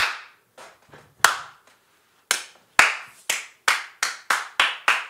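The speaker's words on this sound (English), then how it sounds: "Round of applause for everyone who made a decision." Sparse, uneven claps at a Busch Gardens Williamsburg park gathering, a few hesitant hits that settle into a steady run of sharp, close claps from a small group, with no talking.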